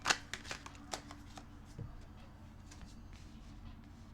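Tarot cards are shuffled and drawn in a few quick, close riffles and snaps, loudest at the start and fading to soft handling.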